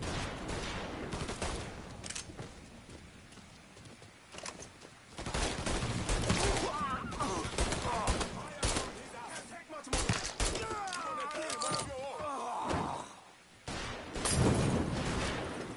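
Rapid bursts of gunfire and machine-gun fire from a PS4 video game shootout, loud and dense with scattered single shots and short pauses, while a player's voice speaks over the action.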